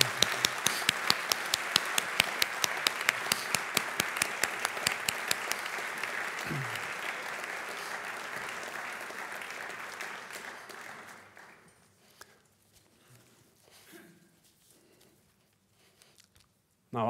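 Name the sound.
audience applause for Kofi Annan and Gro Harlem Brundtland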